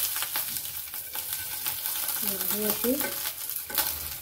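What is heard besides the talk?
stuffed green chillies roasting in a pan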